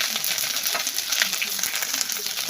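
Panch phoron spices frying in hot oil with ginger and dried red chilli, a steady bright crackling sizzle close up that fills the whole stretch, with faint stirring taps.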